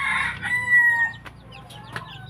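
A chicken clucks and a rooster crows nearby, with a loud harmonic crow in the first half followed by a few sharp clucks over quiet farmyard background.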